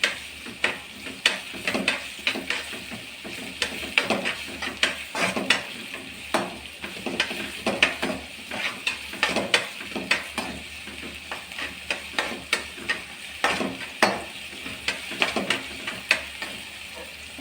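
Pepper chicken masala sautéing in a pan with salt, tomato and green pepper: a continuous sizzle broken by repeated scraping and clinking of a spatula against the pan, fairly close, with no speech.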